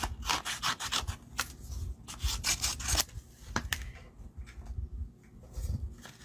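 Card stock being trimmed with a paper trimmer during card making: a close, steady run of dry rubbing and slicing strokes, some sharp and some drawn out, with quieter gaps between them.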